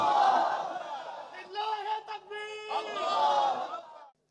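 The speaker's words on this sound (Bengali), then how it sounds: "ও ভাইয়েরা, একটা তাকবীর দেন দেখি।" A crowd of men at an outdoor Islamic sermon shouts in unison, a loud swelling roar followed by a second collective call, close and full.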